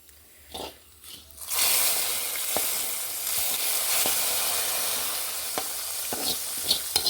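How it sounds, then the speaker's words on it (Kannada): Tempering for basale saaru sizzles in hot oil. A few faint taps come first, then a loud, sudden burst of sizzling spreads out and settles into a steady crackle, broken by occasional sharp pops. "ಅದಕ್ಕೆ ಒಗ್ಗರಣೆ ಹಾಕ್ಕೊಳ್ತಾ ಇದ್ದೀನಿ"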